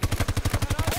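Ranger robot in Battlefield 2042 firing its guns: a rapid, close automatic burst of about a dozen evenly spaced heavy shots, loud and punchy, with no talk over it.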